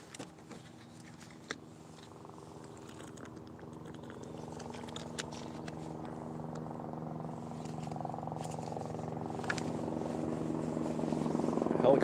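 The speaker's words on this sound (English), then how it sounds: "Helicopters flying through." A police helicopter passes overhead outdoors, its low droning rotor hum building steadily louder as it approaches, with a few faint clicks and knocks nearby.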